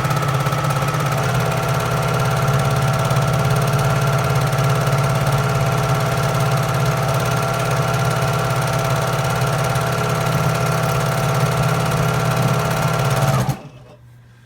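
A sewing machine top-stitching a fabric water bottle cover, running in one long steady drone at slow speed for about thirteen seconds before stopping abruptly, close and loud.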